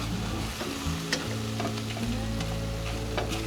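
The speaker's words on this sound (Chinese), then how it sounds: "挤入一些柠檬汁，把芒果中的水分炒干" Mango jam with squeezed lemon juice being stir-fried to cook off its moisture, a steady close sizzle with scattered scraping stirs of a utensil against the pan, no voices.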